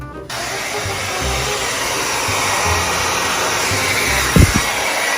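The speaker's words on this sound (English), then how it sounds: "A blow dryer." A handheld blow dryer runs continuously at close range, a loud steady whooshing whir with a brief thump or knock near the end.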